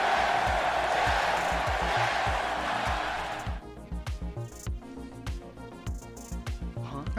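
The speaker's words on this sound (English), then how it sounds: "And the crowd goes wild." Crowd cheering from the Nintendo 64 game Hybrid Heaven, a loud broadband roar of noise that drops off sharply after a few seconds, with steady low rhythmic thumps continuing underneath as the game's music carries on.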